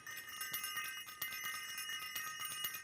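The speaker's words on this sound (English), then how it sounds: "let me ring the bell for my dream makers" A small bell rung several times in quick succession, bright and ringing with a steady run of strikes close to the microphone.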